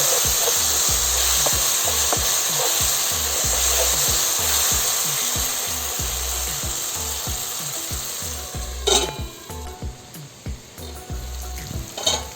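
Tomatoes fry in a pan for drumstick gojju, with a loud constant sizzle under rhythmic scraping stirs, and the stirring turns sparse and clattery near the end.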